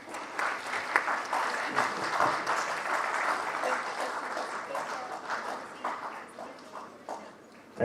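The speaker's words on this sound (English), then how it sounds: "Keep clapping." Dense, steady applause from an audience at an international agriculture trade fair, a continuous wash of many hands clapping close by for the full stretch without a break, with a few louder claps standing out.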